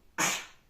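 A single sudden sneeze bursts out close and loud, a sharp broadband blast that fades over about half a second in a quiet room early in the morning, with no talking during it.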